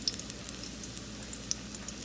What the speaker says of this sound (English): you hear the sizzling. We're cooking the garlic.